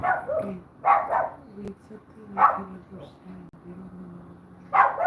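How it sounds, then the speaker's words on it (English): A dog barks at someone outside, several loud woofs in separate bursts spread across the stretch, with a low background murmur between them. "She's barking at somebody outside."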